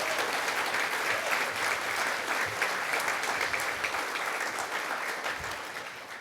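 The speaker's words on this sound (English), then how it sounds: "can we please have a huge round of applause for our faculty and students that prepared the food and the beer that you're drinking tonight" Sustained applause fills a banquet hall as guests clap for the faculty and students who prepared the food and beer, a dense, steady wash of hands that slowly tapers toward the end.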